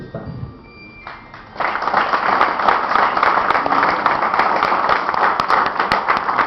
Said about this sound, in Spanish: Pues que sea más sonoro el aplauso para uno de los principales escritores que tiene el estado de Guerrero.